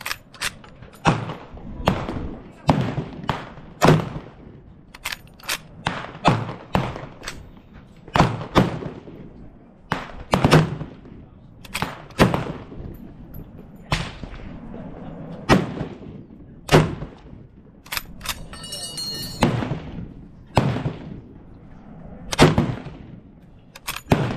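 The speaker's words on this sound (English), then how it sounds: "I'm going to start off with 8x56 ammunition, which for these rounds I will be aiming at the left target. And I'm going to be doing these in groups of 5." A Gewehr 95 rifle firing 8x56 ammunition outdoors, sharp loud reports spaced a second or two apart, repeated many times across the stretch with faint handling noise between shots.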